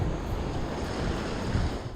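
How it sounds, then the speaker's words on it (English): River water rushes and splashes during a rafting tour on the Middle Fork River in Glacier National Park, a dense, continuous roar with wind buffeting the microphone and no voices. "during a rafting tour on the Middle Fork River"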